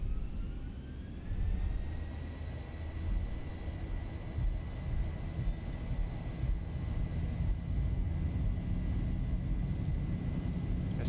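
Boeing 737 engines in X-Plane 11 spool up toward takeoff thrust, a rising whine settling into a steady high-pitched tone over a low, continuous jet rumble, moderately loud with no talk.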